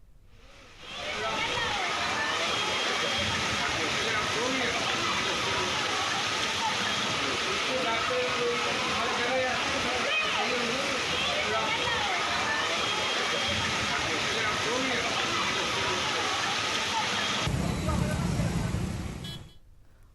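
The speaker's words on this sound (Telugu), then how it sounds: "హైదరాబాద్ నగరమంతా కుండపోత వర్షం కురిసింది" Heavy monsoon rain pours down in Hyderabad, a dense, steady roar of rainfall and running water with traffic in the background, continuous for nearly the whole stretch as someone talks over it.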